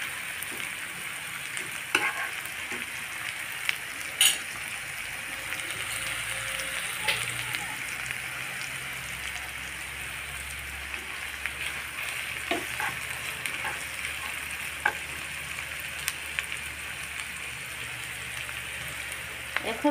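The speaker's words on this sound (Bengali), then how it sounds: "পেস্টটা আমি সময় নিয়ে একটু লাল লাল করে ভাজবো বন্ধুরা।" Spice paste fries on a tawa for chicken, a steady dense sizzle and crackle running throughout with occasional sharper pops and stirring clicks.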